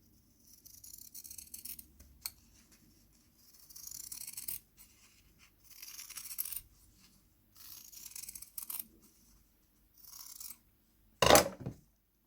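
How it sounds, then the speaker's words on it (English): Scissors snip back the sewn seam allowances of a reusable fabric face mask, giving repeated bursts of crisp cutting strokes separated by short pauses, close and fairly quiet, with one sharper louder snip near the end. "I cut it back so that the seams aren't too big, so I'm just cutting it about halfway"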